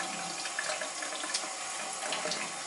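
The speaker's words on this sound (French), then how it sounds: "On va passer au rinçage." Lukewarm tap water runs steadily over synthetic makeup brushes being rinsed head-down under a faucet, a close, even splashing stream with no talking.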